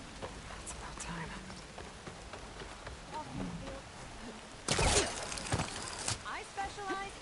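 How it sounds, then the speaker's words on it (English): Rain begins falling in the video game Horizon Forbidden West, a steady hiss of drops with soft ambient game sounds, swelling into a louder, denser patter partway through. "starting to rain. It's about time."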